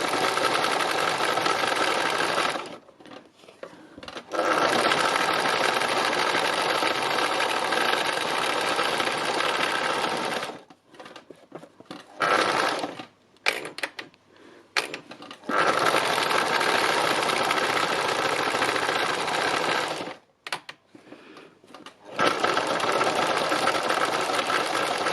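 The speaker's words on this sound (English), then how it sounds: "I'm just doing a little bit of free machine embroidery just to try that out" A sewing machine runs free machine embroidery on fabric, its fast, loud, even stitching hum close by. It stops and restarts in several long runs, broken by short pauses and a few stuttering bursts.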